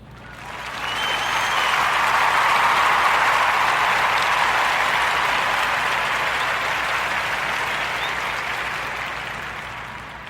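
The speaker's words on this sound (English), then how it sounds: "a warm Narrator podcast round of applause for their business" A crowd breaks into a full round of applause that swells quickly, holds at a dense, even level for several seconds, then slowly tapers off, with no talk over it.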